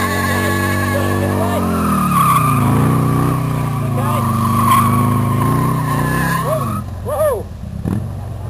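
A stunt motorcycle's engine runs at high, wavering revs while the clutch is slipped and the tire squeals and skids on pavement. The sound is loud and continuous, with a voice briefly calling out near the end.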